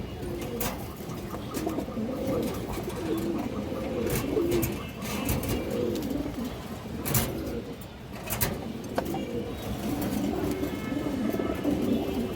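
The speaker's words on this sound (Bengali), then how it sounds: "একটা খুবই সুন্দর একটা মাদি কবুতর আছে" A large female pigeon coos repeatedly at close range in soft, rolling phrases, with faint clatter and background noise around it.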